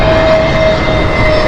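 An Airbus landing on runway 27 left at London Heathrow gives a loud, steady jet roar with a thin sustained whine, heard up close and alone.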